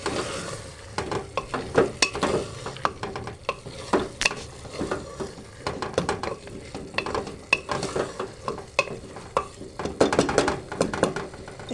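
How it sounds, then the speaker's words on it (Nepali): Soaked rice being stirred in a pot for egg biryani, a spoon scraping and knocking against the metal in a steady run of clinks and scrapes over a soft frying sizzle, close and busy with no talk. "त्यसपछि यसलाई मजाले चलाउने।"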